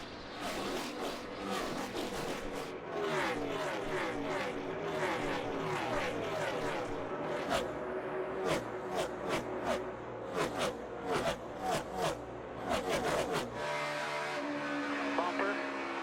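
NASCAR race cars roar around the track at the Kobalt Tools 400, a dense, continuous engine drone with repeated pass-by surges and rattles, loud throughout with voices faintly underneath.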